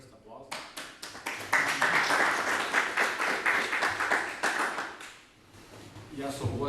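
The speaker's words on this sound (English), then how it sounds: "First applause." Audience applause after a talk at a game development conference on the making of Sweet Transit: a dense, steady clatter of many hands clapping, fairly close, swelling then easing off near the end.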